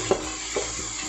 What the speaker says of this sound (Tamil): அது இஞ்சி பூண்டு பேஸ்ட் வாசனை போகிற அளவுக்கு நம்ம வதக்கிக்கிடலாம்.